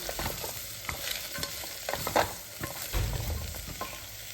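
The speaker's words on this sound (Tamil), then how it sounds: "எண்ணெயிலே கொஞ்சம் வதங்கட்டும்." Vegetables stirred in hot oil in a pan, with soft frying sizzle under scraping and clinking strokes of a spoon, close up and steady.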